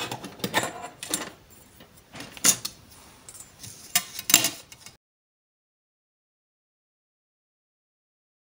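Scissors cutting paper for a handmade Christmas accordion scrapbook mini album, a few close crisp snips and crunches over about five seconds, then silence.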